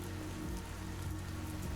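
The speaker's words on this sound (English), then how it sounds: "the pouring rain" Pouring rain in a video game drums steadily on surfaces, a dense, even patter with no voices over it.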